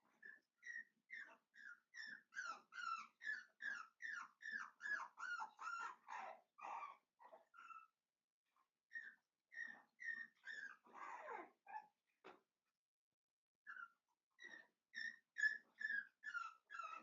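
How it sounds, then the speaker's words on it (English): Three-week-old puppies whine and whimper in rapid, high-pitched bursts, close and fairly faint, with short quiet gaps between runs of cries and no talking. "we get a puppy here and there that's more vocal than the others"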